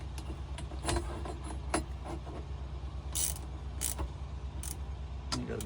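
Ratcheting and mechanical clicks from a wrench running down a size 14 bolt on a 2025 Kenworth W900 truck, heard close up as intermittent ticks and metallic clatter over a low steady background hum.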